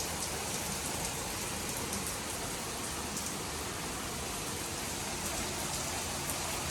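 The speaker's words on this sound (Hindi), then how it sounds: "इतनी बारिशें हो रही हैं ना लाहौर में" Steady, dense rain pours down in Lahore, a continuous hiss of drops hitting surfaces with no pauses, fairly loud and close throughout.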